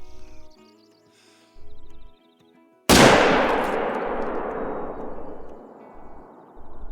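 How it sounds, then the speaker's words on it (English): A single loud .300 Magnum rifle shot in the hunting video game Call of the Wild, fired at a Roosevelt elk about 250 yards off, cracks sharply and rolls into a long fading echo. Someone talks quietly before the shot. "Let's try and take him out with the 300 Magnum as well."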